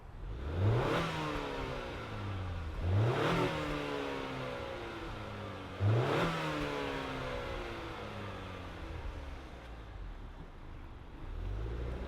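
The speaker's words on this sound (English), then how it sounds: "I'm very curious to see how this 4-banger sounds. Let's fire it up and hear." A 2025 Acura TLX A-Spec with a four-cylinder engine fires up and is revved three times in quick succession, each rise falling back to a steady idle, heard close with no talking.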